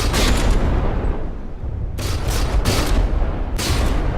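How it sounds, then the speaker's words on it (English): Naval shell fire and impacts in the From The Depths game: continuous heavy, loud booming and rumbling barrage with sharper blasts cracking through at intervals, no talk. "A lot of shells coming in on the Manstein there"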